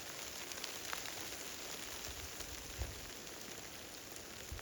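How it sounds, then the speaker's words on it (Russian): Hail falls in the open outdoors, a faint, continuous patter of many small pellets striking the ground and surfaces, with a few louder individual hits scattered through the steady rushing hiss. "Что-то ветер поднялся и град налетел"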